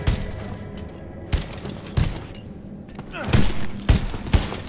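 Gunfire in the Guardians of the Galaxy Telltale video game: a string of loud, sharp blasts spaced irregularly, some clustered close together, ringing over a rumbling background with voices faintly present.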